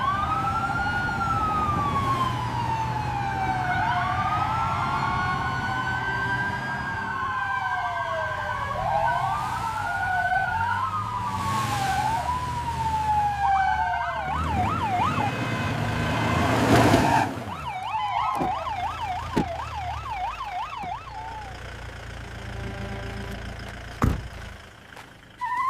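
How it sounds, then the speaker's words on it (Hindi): Emergency vehicle sirens wail along a city street in the early morning, rising and falling in long sweeping tones, then switching to a faster yelping pattern, loud and sustained with traffic noise beneath and no talking. "सड़क पर सायरनों की गूंज फैल गई।"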